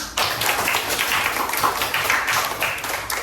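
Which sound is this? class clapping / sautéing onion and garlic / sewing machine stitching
class clapping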